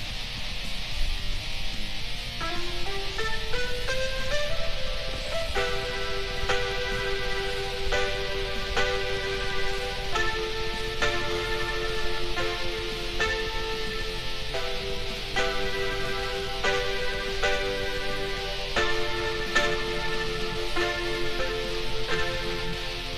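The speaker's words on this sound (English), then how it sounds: "Then you go back, the piano sounds like this." A chorused, slightly shimmering piano plays a steady melodic line of sustained notes over a faint hiss, no voices.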